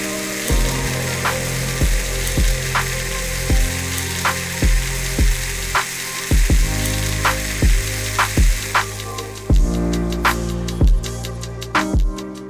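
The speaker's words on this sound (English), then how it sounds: "We'll add that big steak to the pan." Tomahawk steak searing in an oiled pan, a steady loud sizzle with periodic sharp clicking bursts layered over the frying, no talking.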